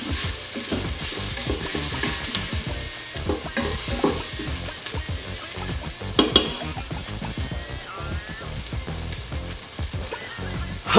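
Food browns in a pan for rajma, a Punjabi kidney bean dish, with a dense, crackling sizzle. Frequent stirring scrapes and clatter sit close over the frying.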